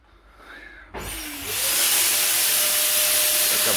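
A disinfectant sprayer machine starts with a thump and builds into a loud, steady rushing spray, a constant airy hiss that grows and holds close by, indoors in an office.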